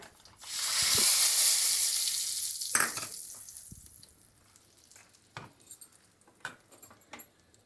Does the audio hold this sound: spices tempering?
yes